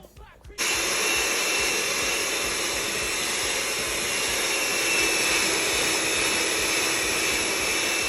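An electric blender mixes powdered sugar with a whole block of butter. After a short quiet start it kicks in, and a loud, steady motor whine holds to the end.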